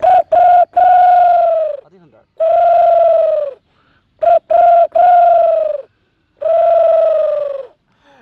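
A voice imitates a pigeon cooing, with repeated loud, close, throaty coos, some preceded by short clipped notes, and a brief spoken remark between phrases.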